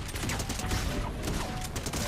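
Rapid turret gunfire from a Marvel hero shooter game, a dense continuous rattle of shots at steady loudness with no talk over it.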